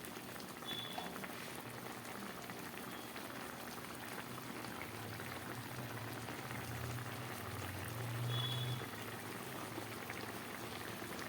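A curry of ground mustard and green chillies boils in a pot with a soft, continuous bubbling that swells slightly near the end, quiet and without speech.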